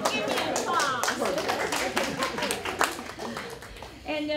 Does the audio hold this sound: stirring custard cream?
no